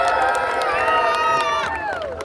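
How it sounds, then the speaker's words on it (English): A crowd cheers and shouts in a loud, brief burst for line dancers who have come in from Chinatown, performing at a St George's Day scouts parade in the UK, with excited high voices and children's shouts mixed in. "let's have a cheer for them as they get ready"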